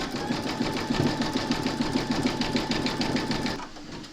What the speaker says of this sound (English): you're going to stitch round number 6, and that's going to zigzag along here and join the ear to the head.